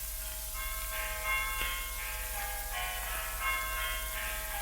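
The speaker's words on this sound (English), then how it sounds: "The bells of Armagh Cathedral." Church bells of Armagh Cathedral ring out in a faint 1934 Christmas broadcast recording, a series of tolling strikes repeating in a steady pattern under heavy hiss.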